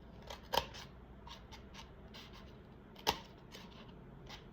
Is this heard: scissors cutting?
yes